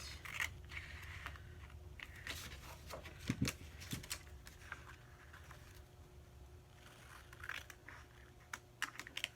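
Scissors cut paper for a Mother's Day card envelope in a series of small, close snips and crisp paper rustles scattered through a quiet room.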